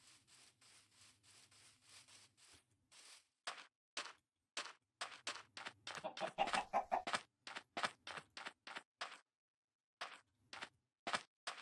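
Chickens in Minecraft make a rapid series of short, scratchy clucks, with brief bursts spaced irregularly and bunching together in the middle, fairly faint and with no talking.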